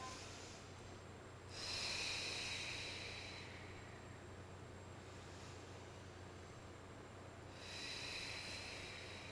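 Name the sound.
deep breathing during a forward-leaning stretch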